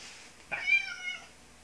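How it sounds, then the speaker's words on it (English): A cat meows once at close range, a drawn-out mid-pitched call that fades over about half a second, with faint rustling in an otherwise quiet room. "Cat's all rubbing itself on the camera, and it's gonna be all make it all jumpy"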